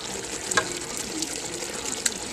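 Tomato juice is poured out of a can for Cajun chicken pasta, a soft, steady trickling pour with a few small splashes, close but faint, with no talk.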